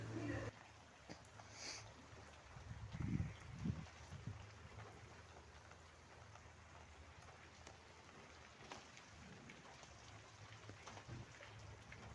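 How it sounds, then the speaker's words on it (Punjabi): Heavy rain falling outside, a faint, steady wash of hiss with scattered drips and a couple of louder low thumps early on. "ਤੁਸੀਂ ਦੇਖੋ ਵੀ ਕਿੰਨਾ ਜ਼ਿਆਦਾ ਮੀਂਹ ਪੈ ਰਿਹਾ ਸੀਗਾ"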